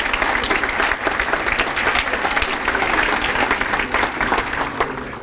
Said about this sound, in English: let's have another round of applause for our newest class of Hall of Fame inductees